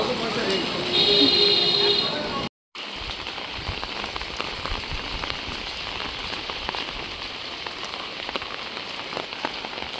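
Rain falling near a small bridge, a steady even patter of drops on surfaces with a short electronic tone early on and a brief dropout; a voice is faintly present.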